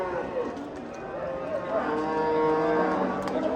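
A cow moos at a livestock bazaar in Bostanliq district, with one long, loud, close lowing call that swells toward the end over a busy market background.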